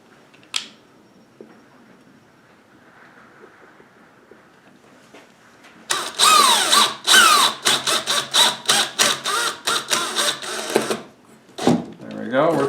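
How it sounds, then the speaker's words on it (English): Power drill boring through roof sheathing on a chicken coop, a loud close whine broken into repeated bursts after a quiet stretch with a little talk. "I'm going to start off going forwards just to get the drill bit in, and then I'll resume going backwards like I did before."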